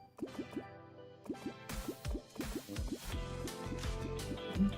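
Lava pours from buckets in modded Terraria, a run of wet, bubbly drips and plops in quick bursts, game music-like tones underneath and the sound thickening toward the end.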